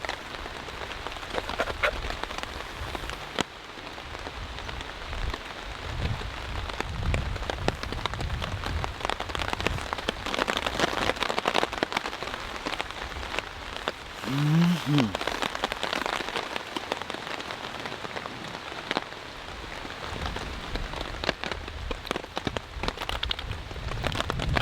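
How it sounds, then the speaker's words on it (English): Rain pours steadily onto a tarp shelter in the mountains during a tropical storm, a dense continuous patter with gusty swells and a brief low rumble midway. "in the rain, in the wind."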